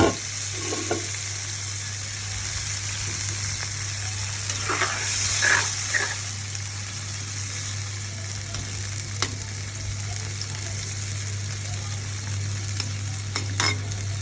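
Water poured into a hot pan of fresh fish sets off a steady frying hiss, with a brief burst of stirring and splashing early on, then an even sizzle continuing over a constant low hum.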